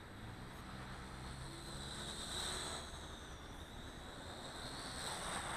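A small quadcopter drone flies with a faint, steady high-pitched whine of spinning rotors whose pitch shifts slightly, heard from a distance over broadband wind-like noise.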